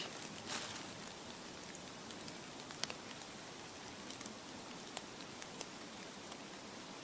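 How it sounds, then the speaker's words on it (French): Soft, steady rain hisses at a distance in a winter forest, with occasional light drip ticks scattered through it. "Entendez-vous la pluie"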